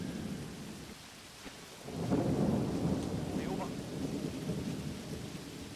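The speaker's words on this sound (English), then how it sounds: "Pitch black and raining." Steady rainfall at night in the video game Combat Mission Red Thunder, with a low rumble of thunder swelling partway through and lingering beneath the patter; no voices.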